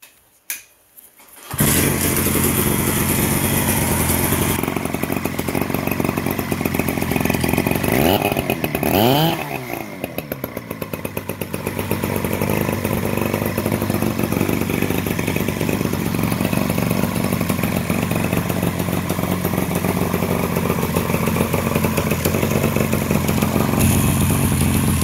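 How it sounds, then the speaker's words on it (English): A Mercury 180cc two-cylinder two-man chainsaw roars to life after a quiet start and runs loud and steady, with a brief dip and rise in engine pitch partway through. "Here's my Mercury two-man chainsaw."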